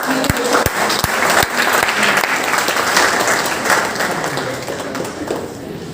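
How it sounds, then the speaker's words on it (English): An audience at a college orientation programme breaks into loud, sustained applause after a few sharp individual claps, the clapping dense and steady throughout. "Everyone a big round of applause."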